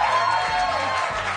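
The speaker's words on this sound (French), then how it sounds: "sous les applaudissements de notre foule ce soir" Studio audience on a French-language TV game show, La Poule aux oeufs d'or, breaking into a brief burst of applause and cheering that fills the whole moment, with a voice speaking over it.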